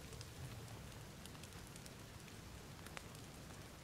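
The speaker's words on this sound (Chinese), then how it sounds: "下雨， 还有刮风" Steady rain with gusting wind hisses as an even, low wash of noise, faint and unbroken, with a few brief drop ticks and no voices.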